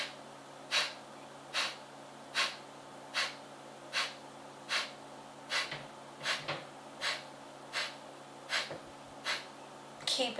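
Breath of fire pranayama: short, forceful nasal exhales repeat in a steady rhythm, about one every 0.8 seconds, close and clear over a faint electrical hum.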